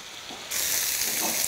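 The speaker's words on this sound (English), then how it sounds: "Hear that sizzle." A tortilla drops into a frying pan with a little oil and a steady bright sizzle jumps up halfway through, close and constant with no voices.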